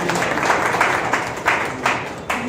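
Audience applause welcomes guests at a magazine launch and honours ceremony, a moderate room of clapping with a few sharper claps standing out.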